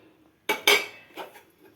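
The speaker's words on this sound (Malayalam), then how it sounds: "ഇനി ഒന്ന് ചട്ടി എടുത്തൊന്ന് ചുറ്റിക്കണം." A cooking pot of mackerel curry made with coconut milk and kudampuli is lifted and swirled, giving two sharp close metallic clanks followed by softer scraping knocks, with quiet room noise between.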